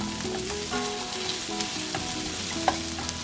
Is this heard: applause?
no